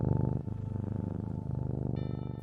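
A cat purrs softly and close by, a steady rhythmic rumble of quick pulses that continues without a break, quiet and alone.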